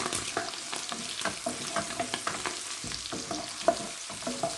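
Carrots and meat sizzle and fry in a pan while fried rice is cooked, with steady close crackling and frequent clinks and scrapes of a stirring utensil against the pan.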